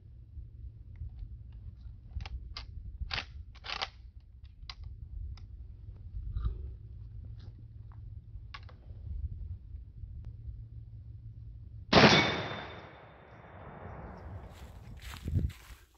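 A 45-70 rifle fires a Varget-loaded round over a chronograph: scattered light handling clicks come first, then one loud, sharp shot with a trailing decay near the end.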